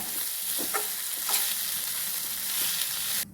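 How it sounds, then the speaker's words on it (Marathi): Poha with salt being stir-fried in a pan, a soft continuous sizzle with a few quick stirring scrapes, close and alone. "आता पोहे घालून घ्यायचे त्यामध्ये, मीठ चवीनुसार, व त्याला परतून घ्यायचे."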